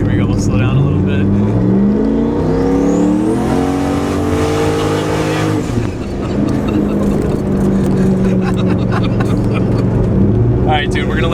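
A 1000-horsepower turbocharged Trans Am WS6 roars close and loud as it accelerates hard, its engine note climbing steadily in pitch before dropping back into a rough, sustained drone.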